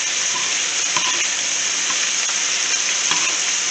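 Chicken pieces fry in a hot pan for a popper casserole, giving a loud, dense, unbroken sizzle with faint crackles scattered through it. No one speaks.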